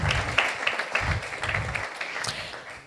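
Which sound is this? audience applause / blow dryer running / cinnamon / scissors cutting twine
audience applause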